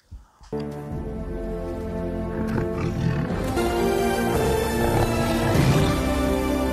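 A tiger roars in a deep, sustained, rumbling growl that swells and holds loud and close for several seconds after a brief rustle at the start.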